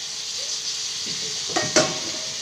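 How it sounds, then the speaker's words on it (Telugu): A metal lid is set onto a cooking pot of chicken curry, giving a short clink and clatter near the end over a soft, steady sizzle. "ఒకసారి కలిపి మూత పెట్టేసుకుందాం"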